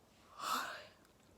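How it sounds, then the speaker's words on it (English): A single soft yawn, a brief breathy exhale that swells and fades within about a second, close and quiet with no talking. "I'm a little bit sleepy today, so I'm yawning a lot"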